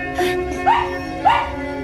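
A small dog gives two short, high yelping barks about half a second apart, close by, over a steady background hum.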